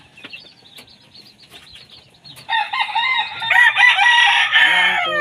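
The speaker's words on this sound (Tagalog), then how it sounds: "Ay, puro tandang pala ito guys." Rooster crowing close by and loud, overlapping with other crows and clucking, after a quieter stretch of scattered bird sounds and wing flaps.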